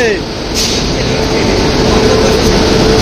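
Loud, steady rumble of a train carriage in motion, a continuous roar filling the space with some brief higher squeals.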